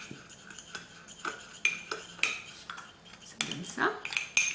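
A utensil stirs and scrapes gold gloss with powder in a small dish, making a series of light clinks and scraping taps at an irregular pace, close and fairly soft.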